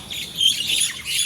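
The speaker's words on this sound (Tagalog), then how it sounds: "Ang ingay naman ng ibon na to." A noisy bird calls near a house, giving short, high squawking chirps that overlap in a quick run at moderate loudness, with no talking.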